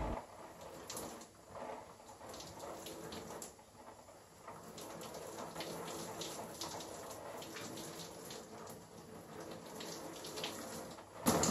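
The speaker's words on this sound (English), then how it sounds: "The first thing I'm going to do is saturate my hair in warm water." Warm tap water runs steadily from a faucet to saturate hair, a continuous splashing rush with faint bird calls in the background and no talk.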